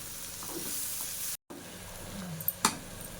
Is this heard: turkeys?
no